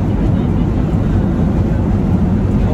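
Steady low roar of an airliner cabin while the plane waits to land, a loud continuous broadband engine and air rumble with no breaks.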